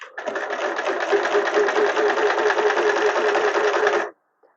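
A sewing machine stitching a narrow rolled hem, running at a fast, even rattling whir for about four seconds, then stopping abruptly into silence.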